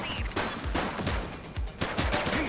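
Rapid bursts of gunfire ring out in The Precinct, a police action sandbox game, with repeated sharp shots cracking in quick irregular succession at close range.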